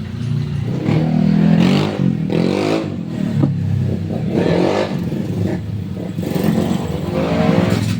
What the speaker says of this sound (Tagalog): Ang ingay ng motor, pangit namang motor.